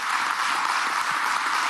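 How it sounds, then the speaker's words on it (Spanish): A crowd applauds at a televised national address by the Venezuelan president, a steady wash of clapping held at an even level throughout with no voices over it. "le damos un aplauso desde aquí"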